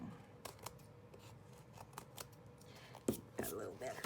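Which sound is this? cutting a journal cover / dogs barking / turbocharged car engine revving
cutting a journal cover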